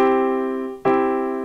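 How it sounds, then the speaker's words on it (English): A sustained major triad chord rings out, fading slightly, then is struck again and held. "the sound of major triad"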